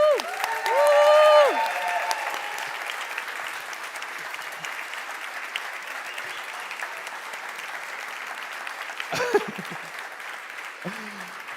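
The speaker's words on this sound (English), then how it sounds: "this crazy round of applause is just for you" Sustained applause from an audience at an energy-transition startup award ceremony fills the hall, with a host cheering and speaking over it at the start and a brief voice later.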